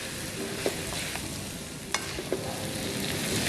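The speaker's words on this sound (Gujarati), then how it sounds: "ધીમા હલકા હાથથી આપણે એને હલાવી લઈશું." Jain-style Schezwan fried rice with vegetables being gently stirred in a hot pan, a steady close sizzle with a few soft spoon scrapes and clinks against the metal.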